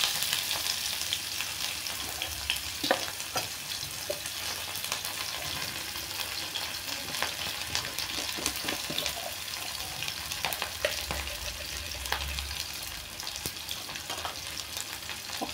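Onions, black cumin and sliced chillies fry in a pan with a steady, close sizzle and hiss that holds the whole way through. Faint clinks and small scrapes come through now and then, with no talking.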